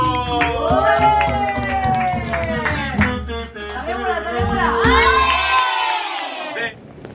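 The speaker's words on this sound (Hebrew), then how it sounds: "ומחיאות כפיים סוערות" A big crowd cheers, shouts and claps at a women's sports team event, loud and chaotic, with voices and whoops rising and falling over the whole stretch.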